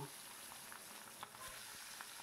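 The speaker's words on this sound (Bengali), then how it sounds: "এবারে একটা একটা করে পাবদা মাছ আমি ভেজে নেব।" Pabda fish fry in mustard oil in a kadai with a soft, steady sizzle and light crackle, faint and continuous throughout.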